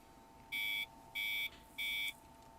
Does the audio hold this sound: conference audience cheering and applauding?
no